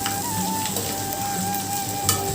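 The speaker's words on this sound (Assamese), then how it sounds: "তাৰপাছতে জালুক, আদা, নহৰু, কচুখিনি দি দিছোঁ। তাৰপিছত অলপ ভাজি আছোঁ।" Taro pieces frying in oil with black pepper, ginger and garlic give off a steady, even sizzle that runs throughout without any talking.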